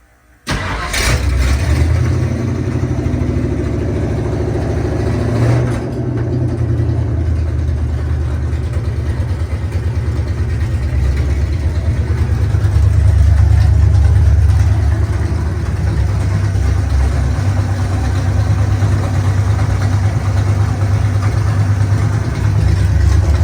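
A 1970 Ford Bronco with an open header cranks and fires up, then settles into a loud, rough, steady idle up close, growing slightly louder midway through, with no talking.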